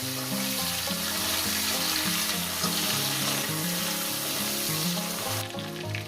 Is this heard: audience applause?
no